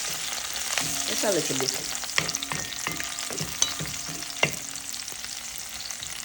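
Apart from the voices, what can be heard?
sautéing pepper and thyme in a pan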